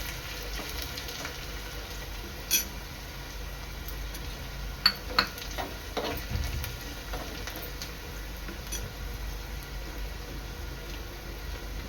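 Garlic fries in oil in a pan for a dhaba-style lasuni methi, a steady faint sizzle broken by a few sharp clinks and scrapes of a spoon stirring.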